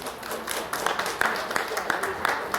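A crowd at a fishing tournament weigh-in claps for the anglers. The sharp, scattered claps sound moderately close, with voices talking over them.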